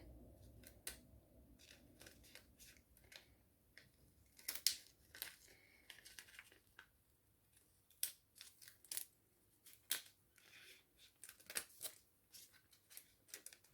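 Scissors snip through a planner sticker, giving quiet, close, crisp cuts in irregular bursts, some in quick runs, with light paper rustling between them.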